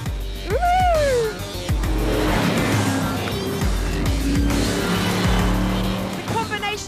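Bowler EXR all-terrain supercar being driven hard on wet gravel, a loud continuous engine roar with gravel spray and brief tyre squeal, while a voice whoops over it.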